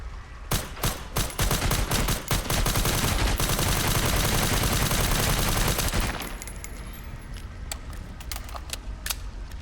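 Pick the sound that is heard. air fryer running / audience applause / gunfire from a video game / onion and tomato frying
gunfire from a video game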